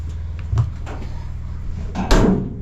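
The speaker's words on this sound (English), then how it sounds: "We'll go through the door to the inside." Entrance door of a houseboat at King Ash Bay being opened, with a couple of knocks, then a latch clack and a louder thump near the end, close by over a low hum.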